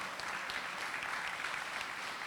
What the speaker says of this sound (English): Round of applause for this guy here